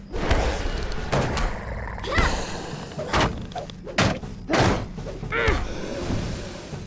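A Hobbit brawler in the Lord of the Rings Online game lands a string of punches, heard as loud, dull thumps and thuds at an irregular pace over continuous game background sound.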